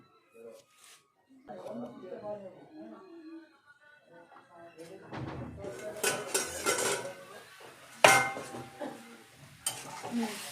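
Dried fish and eggplant being stirred in a pan, with a utensil scraping and clattering against the metal and a faint sizzle, intermittent and growing busier toward the end, while a person talks at the start.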